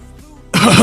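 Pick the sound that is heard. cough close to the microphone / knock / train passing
cough close to the microphone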